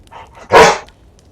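One loud, sharp bark from a dog indoors, close and sudden, rising out of a quiet room.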